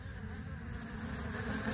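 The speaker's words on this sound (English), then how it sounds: "See how mad they are? Barnyard bees." Angry barnyard honeybees swarm with a dense, continuous buzzing drone that stays steady and moderately close throughout, with no voices.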